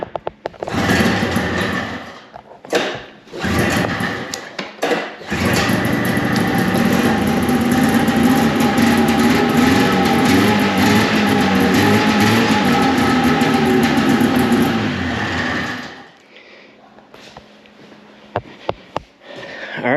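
A 440 snowmobile engine with a newly installed fuel primer, choke off: a few short cranking bursts, then it catches and runs loud and steady for about ten seconds before cutting off, followed by faint clicks.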